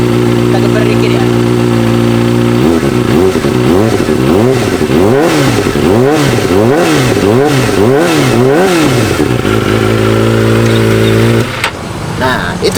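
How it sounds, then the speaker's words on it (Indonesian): A Kawasaki ZX25 four-cylinder sport motorcycle with an Akrapovic exhaust idles loudly, then revs repeatedly in rising and falling surges before settling back to idle; a brief voice is heard at the end. "Nah, itu tadi bunyi dari akranya teman-teman."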